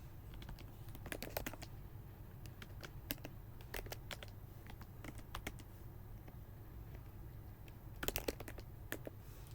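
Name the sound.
typing code on a computer keyboard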